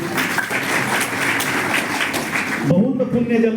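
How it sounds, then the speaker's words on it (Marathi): Strong applause for Pandurangji Talekar at his farewell ceremony, a dense, steady crowd clapping sustained for about three seconds before it cuts off and a voice begins speaking. "श्री पांडुरंगजी तळेकरसाठी एकदा जोरदार टाळ्या वाजवूया आपण"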